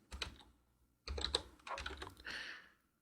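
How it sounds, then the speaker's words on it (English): Keys clatter on a computer keyboard as a company name is typed in Adobe Illustrator for a business logo design, coming in several quick bursts of close, crisp taps separated by brief pauses. "I just typed the name Lalina,"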